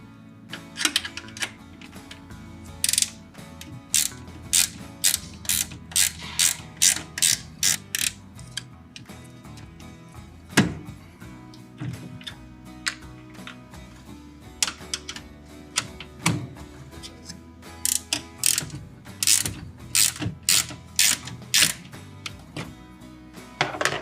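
Ratchet cranking out 8mm tail light bolts on a 2015 Ford F-150, rapid close clicking in repeated bursts with brief gaps between strokes, crisp and fairly loud, no voices.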